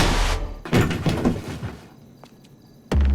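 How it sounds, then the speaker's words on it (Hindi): A door being broken open: heavy thuds and rattling bangs as it is forced, a short lull, then a final loud crashing impact. "दरवाजा तोड़ना पड़ेगा।"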